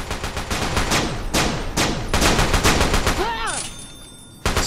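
Rapid gunfire in Fallout: New Vegas at Jacobstown, dense overlapping volleys of shots with a brief whistling electronic weapon effect near the end, loud and continuous.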